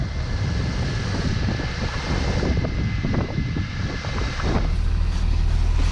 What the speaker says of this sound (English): Look at that, there's a cold start.